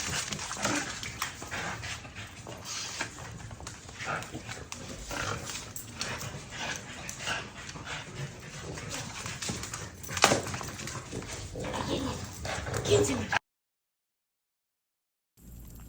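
Dogs heard continuously up close throughout, with shuffling and movement sounds, one sharper burst partway through, before the sound cuts off abruptly near the end.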